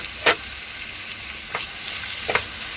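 Tomatoes dropping into a hot pan of onions cooking down for kushka, with three brief sizzling bursts spaced over a quiet, steady background of low frying.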